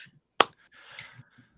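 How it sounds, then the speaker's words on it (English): A single sharp, close clap rings out in a comedy club during a night of stand-up, followed by faint rustling and low murmurs. "I'm gonna do a slow clap."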